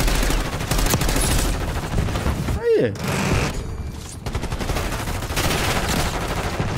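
Rapid gunfire in Call of Duty: Black Ops 6 crackles in dense bursts, briefly dropping out mid-clip before resuming, with a voice speaking Portuguese over the shooting.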